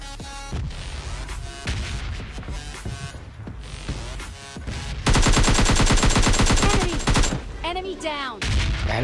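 M416 and AKM gunfire in PUBG Mobile Lite, with scattered single shots and short bursts leading into a loud, sustained rapid automatic volley, then a few trailing whooshing effects.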